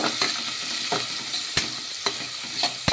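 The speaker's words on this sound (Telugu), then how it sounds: "చిన్నగా కట్ చేసి పెట్టుకున్న టమోటా ముక్కలు ఇలా వేసేసుకొని ఒకసారి ఇవి కూడా బాగా కలిపేసుకుందాము" Chopped tomatoes are stirred into green chillies frying in a pan, with a constant sizzle broken by periodic scraping strokes of a spoon against the pan, close and clear.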